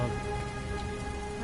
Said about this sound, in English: this isn't very heavy rain, this is more like light rain